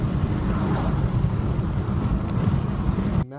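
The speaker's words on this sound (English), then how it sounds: "change oil in my dad's 2005 PT Cruiser, which is what you hear in the background" A 2005 PT Cruiser with a 5-speed idles nearby in a home garage setting, a steady low engine rumble with some wind-like noise, cutting off abruptly at the end.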